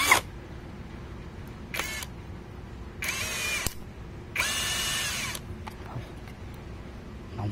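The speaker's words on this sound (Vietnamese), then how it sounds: "mình sẽ bắn vít trực tiếp vào đây các bạn nhé" A power drill drives a screw straight into a small 12V twin jet fan, several loud whirring bursts of varying length separated by brief quiet gaps, with no talk.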